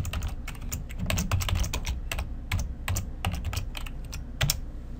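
Computer keyboard typing at moderate distance, quick irregular key clicks in short bursts over about five seconds with a low room hum beneath, no talking.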